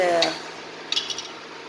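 A spoon stirs macaroni and vegetables in a pot, giving a few light metallic scrapes and clinks over a low steady background hum.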